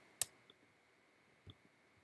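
A computer mouse clicking on points in a design program, two or three crisp close clicks separated by quiet gaps.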